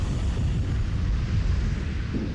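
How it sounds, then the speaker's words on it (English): Massive gas explosion in a congested outdoor area, heard as a sustained loud low rumbling roar that fills the whole stretch without a clear onset. "explosion."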